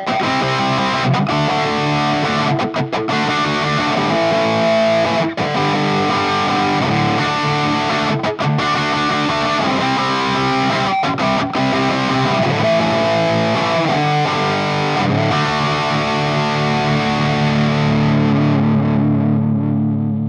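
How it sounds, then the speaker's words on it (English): Cheap electric guitar played through distortion, loud sustained overdriven chords and riffs with brief gaps between phrases, ringing out at the end. "let's throw a little bit of distortion in here and see"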